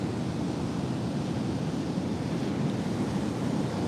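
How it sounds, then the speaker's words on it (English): Big set waves break on the ocean in a continuous, broad roar of surf with wind noise, steady and fairly loud with no voices. "There's some really big set waves coming through."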